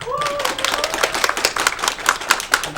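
Audience at a corporate new-employee training session clapping together, a brisk, fairly close burst of hand claps lasting a couple of seconds with a brief voice at the start.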